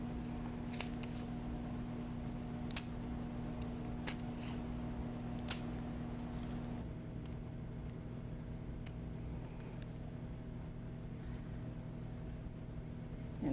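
Scissors snip paper for a Lunar New Year lantern craft, a few sparse crisp cuts spaced over a quiet steady background hum, close and fairly faint, no speech.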